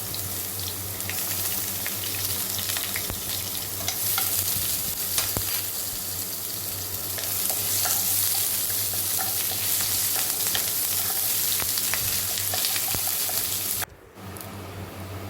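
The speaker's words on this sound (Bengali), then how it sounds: "এখন এর মধ্যে একটা পেঁয়াজ কুচানো দিয়ে দিচ্ছি" Chopped onion frying in hot oil with cardamom, cinnamon and a bay leaf makes a loud, dense, steady sizzle with stirring scrapes, cutting out abruptly near the end before resuming more quietly.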